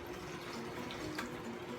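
Water from a tap runs steadily into a pot of cabbage for a brief moment, a soft, continuous splashing trickle that stays faint throughout.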